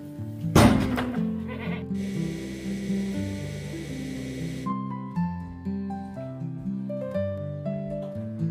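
Goats on a farm in the early morning, bleating in several calls alongside classical music playing, with a thump at the start.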